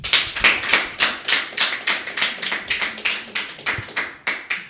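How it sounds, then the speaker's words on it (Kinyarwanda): Audience applause at a lively Rwandan celebration honoring a woman, a steady run of close, sharp hand claps in an even rhythm, loud and without talk. "nimukomere mama amashyi"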